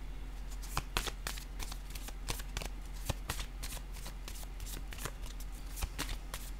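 Tarot cards are shuffled by hand in quick, irregular riffling bursts, close and crisp, with a steady low hum underneath and no talking.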